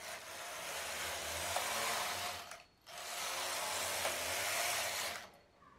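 A knitting machine carriage makes two long, even sweeps across the bed, each a steady rushing whir lasting over two seconds with a brief pause between, heard close and alone.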